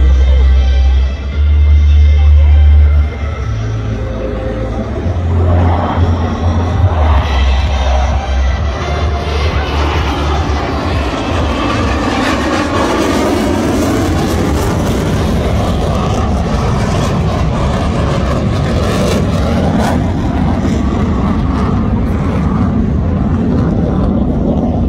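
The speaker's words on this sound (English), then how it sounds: "on your right are the pair of F-15s escorting our MRTT, simulating a bomb threat aircraft to land" Two F-15 fighter jets escorting an MRTT tanker during an air force open house flying display roar overhead, a loud broad jet rumble that swells and sweeps past over a murmuring crowd.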